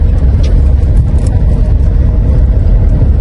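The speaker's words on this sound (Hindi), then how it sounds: "ये देखिए खेत में से सब ट्रैक्टर वगैरह भी आ रहे हैं यहाँ पे" Tractors come in from the fields along a village farm track with a deep, loud, rumbling engine drone close by that stays steady and unbroken.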